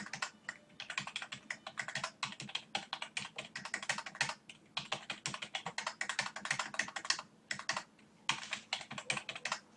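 Steady, close rapid keystrokes on a computer keyboard as numbers are entered, a dense run of clicks with brief pauses and no talking.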